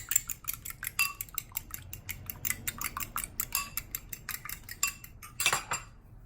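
A fork rapidly beats a cracked egg in a bowl while cheese melts for keto sopes, making a quick, steady run of light clinks and taps against the dish that fades out near the end.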